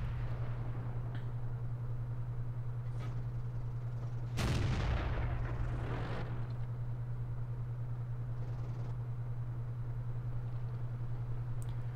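A single loud cannon blast from an M18 Hellcat tank destroyer in World of Tanks, one sharp boom with a decaying rumble, set over a steady engine hum that runs the whole time.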